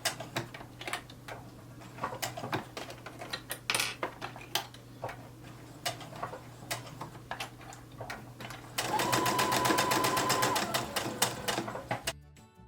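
A sewing machine stitches a fabric ornament around a curved edge in quick ticking bursts, then runs faster and louder near the end; the sound is close and steady with no talk.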